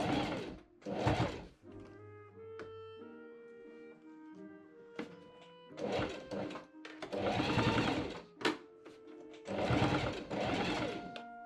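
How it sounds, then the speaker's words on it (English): A sewing machine stitches a quarter-inch hem on a Victorian-style shirtwaist in short bursts of rapid mechanical whirring, separated by pauses with faint handling sounds. "I fold under and machine sew a 1/4 inch shirt hem."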